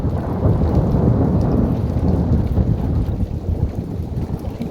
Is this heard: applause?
no